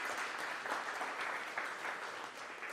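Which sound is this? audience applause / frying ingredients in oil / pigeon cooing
audience applause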